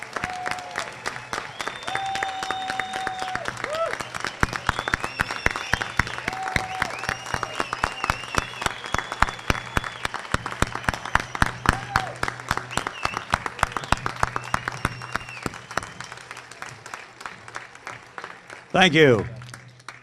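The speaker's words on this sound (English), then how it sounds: "one more round of applause for these brave young people." Audience at a community salute ceremony giving steady, crisp applause for brave young people, many hands clapping continuously, with a brief spoken thanks near the end.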